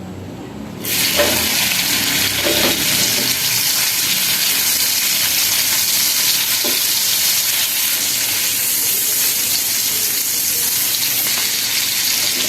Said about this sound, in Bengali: এবার চিংড়ি মাছগুলো ভেজে নিচ্ছি কড়াইয়ে তেল দিয়েছি